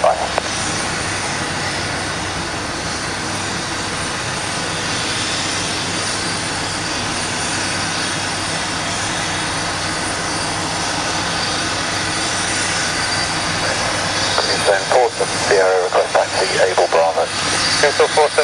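A Royal Air Force A400M Atlas military transport aircraft departs with a loud, sustained turboprop engine roar that stays strong throughout, while radio chatter from air traffic control is heard over it.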